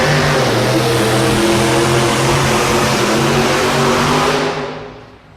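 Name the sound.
pulling truck engine blower belt coming off and letting go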